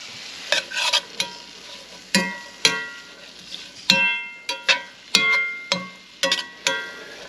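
Spatula stirring and scraping melting food in a pan for deer heart pies, a series of irregular close scrapes and clanks with faint sizzling between them, no talking.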